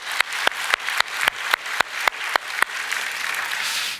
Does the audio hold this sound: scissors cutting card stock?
no